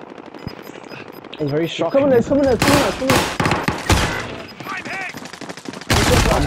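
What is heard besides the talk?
gunfire in video game Call of Duty: Modern Warfare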